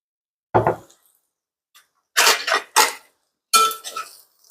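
Spoon scraping and clinking against a pot as spiced food with a little oil is stirred, in several separate bursts of clatter between short silences.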